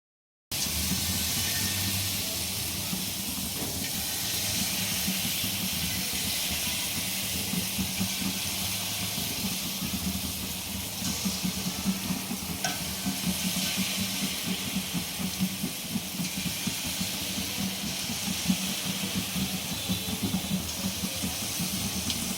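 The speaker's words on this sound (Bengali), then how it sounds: "দেখুন আমি এভাবে গোল শেপ দিয়ে ভেজে নিচ্ছি" Round palm fruit fritters deep-fry in hot oil, giving a dense, even bubbling hiss that stays close and constant for the whole stretch, with no voices.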